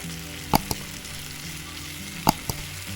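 Onions sizzle softly in a pan, a steady low hiss broken by two pairs of sharp clacks, like a spatula tapping the pan while stirring.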